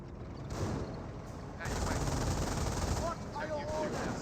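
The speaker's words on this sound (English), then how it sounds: "MG42 finally getting some good damage there onto the Bren carrier." An MG42 machine gun fires bursts at a Bren carrier in the Company of Heroes strategy game, rattling gunfire that swells louder partway through, mixed with battle noise and possible background voices.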